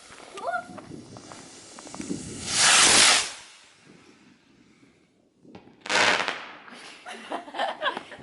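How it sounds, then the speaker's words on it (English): New Year fireworks go off nearby in two loud, hissing bursts a few seconds apart, with quieter crackles and people's voices between them. "That was a massive firework."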